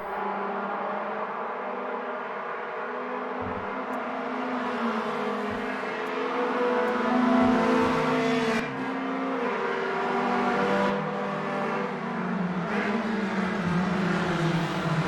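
Classic race car engines in the sim racing game Automobilista 2 drone steadily throughout, with a sustained mid-pitched roar that swells and dips through gear changes and occasional sharper revs, heard close and continuous without speech.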